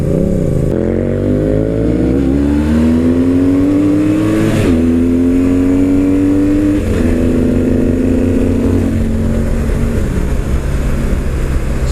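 A BMW R1100RT sport-touring motorcycle engine accelerates hard, loud and close, its rising tone climbing through successive gear changes over a steady roar.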